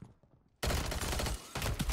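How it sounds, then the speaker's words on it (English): A sudden loud burst of gunfire from a shotgun in the Warzone (MW3) video game, followed by a sustained roar of firing that lasts about a second and a half after a quiet lead-in. "Ooh, nice shotgun shot."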